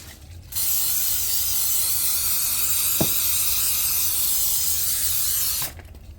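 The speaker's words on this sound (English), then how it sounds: "grease my baking pan with some non-stick spray" Non-stick cooking spray hisses in one steady burst of about five seconds onto a baking pan for crawfish cornbread, close and loud, with a faint click near the middle and no talk.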